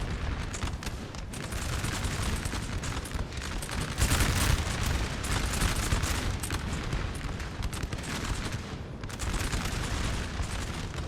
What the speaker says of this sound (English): especially from cannon volleys.